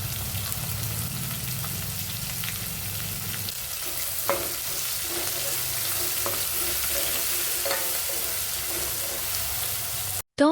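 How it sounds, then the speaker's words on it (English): Three large chopped onions sizzle in a hot pan for poha, a steady bright frying hiss throughout with occasional stirring scrapes and pops, close and fairly loud, no talking. "Add in 3 large chopped onions. We want them soft, sweet, and translucent."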